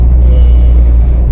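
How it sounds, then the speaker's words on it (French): A 1998 Honda Integra Type R with its 1.8-litre VTEC engine gives a loud, continuous, throaty drone that holds steady for the whole moment. "Et puis le moteur VTEC"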